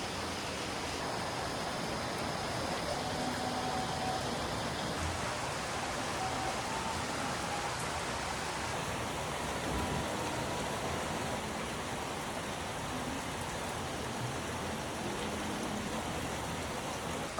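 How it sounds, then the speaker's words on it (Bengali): Steady rain falls continuously, a dense even hiss that stays loud and unbroken from start to finish with no voices over it. "এর মধ্যে নামছে বৃষ্টি।"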